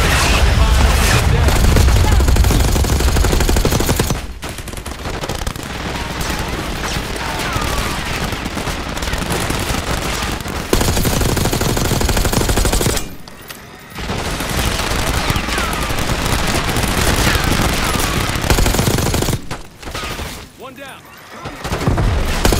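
Enemy operatives fire miniguns in the Call of Duty Black Ops 6 campaign, producing long, loud, dense streams of gunfire with explosions and a few short lulls, and voices talk over the battle.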